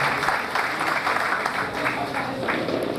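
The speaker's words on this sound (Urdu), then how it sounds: "ساونت سر کو زوردار تالیوں سے ساونت سر کا استقبال کیجیے۔" Loud, sustained applause from an audience welcoming a guest at an Urdu book release event in Sholapur, dense and continuous clapping throughout.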